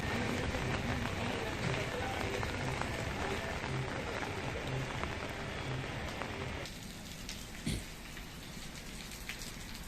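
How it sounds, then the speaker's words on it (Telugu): Heavy, unbroken rain pours down around Paderu in Alluri district, a dense steady hiss that fills the whole stretch and eases slightly toward the end, with faint talk underneath. "అల్లూరు జిల్లా కేంద్రం పాడేరు పరిసరాల్లో రాత్రి నుంచి ఎడతెరిపి లేని వర్షం కురుస్తోంది"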